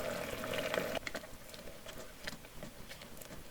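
Water bubbling in a pasta pot as spaghetti is added, a steady close, low bubbling patter with a brief louder splash at the start.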